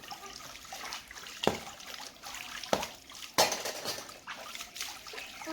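Water runs and splashes while dishes are washed, a soft trickle with a few sharp clinks and knocks of utensils against pots at irregular moments.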